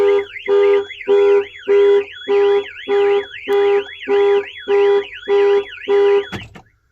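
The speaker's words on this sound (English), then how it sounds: "that is the factory alarm triggered" A loud factory-fitted car alarm siren blares in repeating pulses, a warbling wail over a steady beep, about ten cycles before cutting off.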